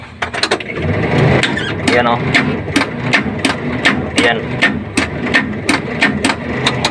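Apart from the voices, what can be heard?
seized Suzuki DA63 engine being cranked with the starter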